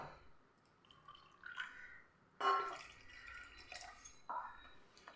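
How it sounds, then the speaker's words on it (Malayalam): Water poured into wheat flour for dosa batter: faint, short splashing and trickling bursts with quiet gaps, close and soft, with a couple of clattering handling knocks. "ഇതാ ഞാൻ ഒന്നര കപ്പ് വെള്ളം ഒഴിച്ചു കൊടുത്തിട്ടുണ്ട്"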